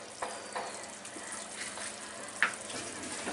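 Chicken jhal fry curry simmers in a pan, its sauce bubbling with a soft continuous seething hiss and occasional small pops, close and moderately quiet.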